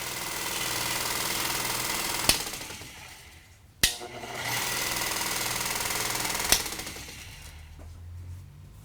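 An oiled machine tool spindle runs with a steady, loud mechanical whir, broken by three sharp clunks as it slows and starts up again.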